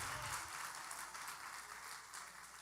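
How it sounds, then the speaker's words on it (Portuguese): Congregation at a church service applauding, a steady wash of distant, fairly quiet clapping that fills the whole stretch without talk. "dá um aplauso ao Senhor bem forte"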